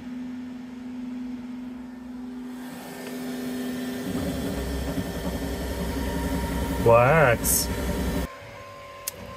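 A Bambu Lab X1 Carbon 3D printer runs mid-print, a steady mechanical whir and fan hum that thickens partway through, with a brief spoken word near the end.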